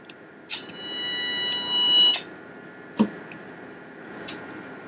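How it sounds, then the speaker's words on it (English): Tone generator sending a test tone through a homemade lineman's handset: a steady electronic tone for about a second and a half, with sharp clicks before, after and a bit later, moderately loud. "tone generator and see if we get tone"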